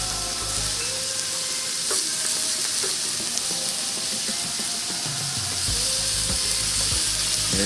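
Vegetables brushed with balsamic vinegar and olive oil sizzle steadily on a hot grill, a dense continuous crackle and hiss with faint clinks, close and loud without any voices.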